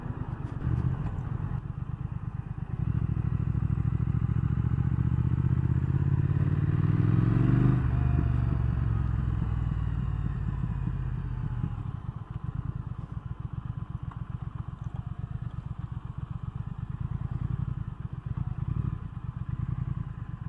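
A 2019 Triumph Thruxton R 1200 motorcycle on a test ride, its engine rumbling steadily and loudly, rising briefly then settling into a continuous throbbing drone with some clatter; no voices.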